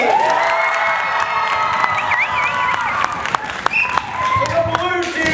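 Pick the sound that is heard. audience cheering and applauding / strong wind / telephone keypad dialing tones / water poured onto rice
audience cheering and applauding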